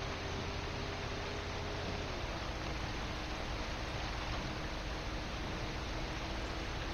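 Rain falls in the video game Bus Simulator, a steady flat hiss of spray with a faint engine hum underneath, constant and unchanging throughout.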